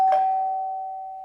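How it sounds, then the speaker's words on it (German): A single doorbell chime rings once, clear and close, and its bright tone fades slowly over about a second. "wenn es jetzt klingelt, mache ich nicht die Tür auf"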